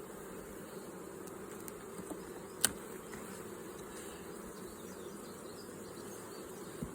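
Honeybees buzzing around opened beehive boxes while honey supers are checked, a faint steady drone with one sharp knock partway through.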